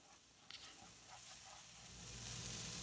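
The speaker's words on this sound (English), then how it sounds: "Heat the fried pan, put a tablespoon of cognac and scrape the pan with a wooden spoon" A tablespoon of cognac hits a hot frying pan, hissing and sizzling as a wooden spoon scrapes the pan. The sizzle is close and quiet and grows steadily louder toward the end.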